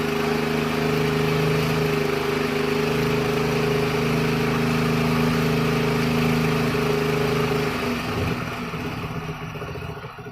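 Close steady idle of a Hero Honda Splendor motorcycle engine during carburettor tuning, a constant droning hum that dips slightly in pitch and level near the end as the revs are brought down.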